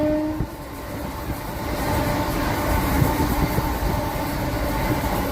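A MEMU passenger train runs along the line between Visakhapatnam and Parvatipuram, a loud, steady close-up rumble of wheels and carriages that continues without a break and has no talk over it.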